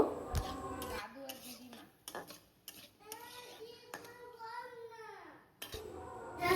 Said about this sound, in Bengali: এবার আবারও একটু ভালো করে নাড়াচাড়া করে নেব